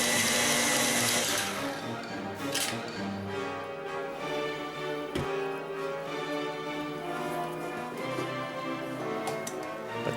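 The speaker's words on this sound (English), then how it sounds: "Mix in the melted chocolate and blend it all together." A blender mixes cake batter with melted chocolate for an Irish whiskey fudge cake, giving a steady, close motor whir with rattling ticks and a few sharp clicks throughout.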